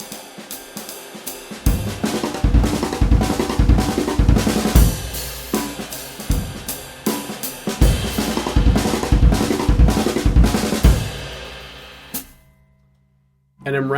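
A drummer plays stick-on-stick fills in 16th notes with bass drum quarter notes punctuating the beat, crisp rapid clicks and thumps repeating over several bars, then stopping before a final hit.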